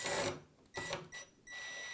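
A cordless AEG impact driver drives a screw with rapid, rattling hammer blows in bursts, loud and close, separated by short pauses.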